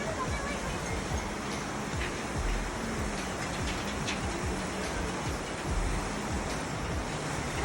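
Water from Gosaikunda rushes under the only bridge on the trail, a steady, loud, broadband roar of flowing river that continues unbroken throughout, with no voices.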